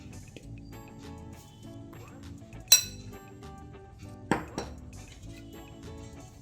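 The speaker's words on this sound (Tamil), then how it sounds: "விஸ்க் வச்சு ஸ்லோவாக மெதுவாக இந்த மாதிரி மிக்ஸ் பண்ணிக்கலாம்" A whisk stirs a mix of maida, cocoa powder and sugar in a bowl, giving soft scraping with faint metallic clinks and a few sharper clanks against the rim.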